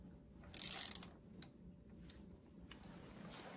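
A ratchet turns a spark plug on a 2004-2008 Chevy Aveo, making a brief, close burst of rapid clicking followed by a few isolated ticks in a quiet space.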